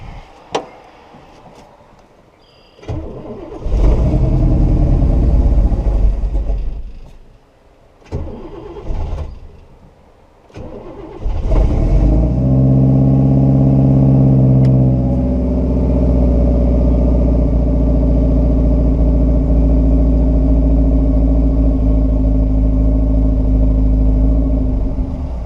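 A 1969 Buick Special Deluxe V8 with a fuel problem cranks and catches in stuttering bursts, dies, then fires up and revs high on its own before settling into a loud, steady high idle after a timing adjustment.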